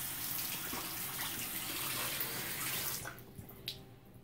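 Water runs steadily from a tap at a sink for face washing, a soft, even rushing that stops near the end, leaving a few faint drips and clinks.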